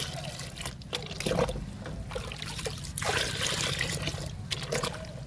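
A homemade liquid made from pomegranate peels poured out in a thin, gurgling trickle, continuous and close, with a few louder splashy surges along the way.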